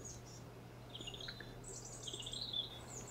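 Faint, distant meadow pipits call overhead, with thin, high chirps and short twittering phrases scattered over a steady low hum in quiet open country.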